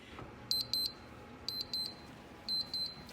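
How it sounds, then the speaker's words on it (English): Kitchen timer going off while a steak cooks in the oven: three bursts of sharp, high double beeps, evenly spaced about a second apart, clear and close over a quiet background. "I'm gonna set my timer for 12 minutes"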